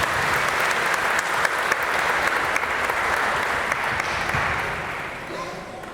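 Wedding guests applaud in a steady, dense wash of clapping right after the couple cut the wedding cake, sustained for several seconds and tapering off toward the end.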